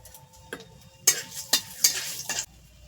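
Nigella seeds, three dried chillies and two bay leaves sizzle in hot hilsa fish oil, a steady frying hiss broken by several loud crackling bursts as spices hit the pan, with no talk.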